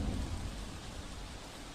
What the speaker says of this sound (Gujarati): જે રીતે ધોધમાર વરસાદ વરસી રહ્યો છે